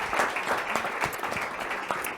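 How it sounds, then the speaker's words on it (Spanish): An audience claps for a speaker at a presentation on sustainability, a steady burst of applause with no talk over it. "Un aplauso para Mercè Bray, la gran referente en diversidad e inclusión."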